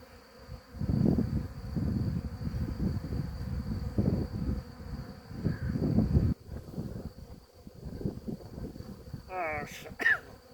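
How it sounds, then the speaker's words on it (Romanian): A honeybee swarm buzzing outdoors in the wind, with a steady insect hum beneath someone talking close by and a few short calls near the end. "Vine roiul un pic mai greu, că bate vântul le dăm o parte."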